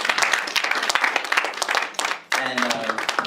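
Audience applause at a graduation presentation, brisk, bright clapping for about two seconds, then a brief dip before it resumes with a voice speaking over the clapping.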